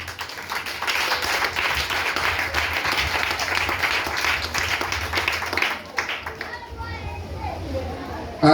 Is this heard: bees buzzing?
no